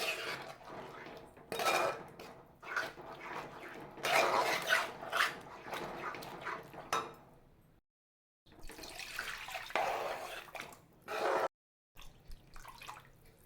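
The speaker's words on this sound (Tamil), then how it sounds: "1 கப் தேங்காய் பாலும் 2 கப் தண்ணியும் நான் அதில் சேர்த்துக்கிறேன்" Coconut milk and water are poured onto rava for rava kesari in stop-start bursts of splashing liquid. Close metallic clinks of pots and utensils mix in, and the sound breaks off into brief moments of silence.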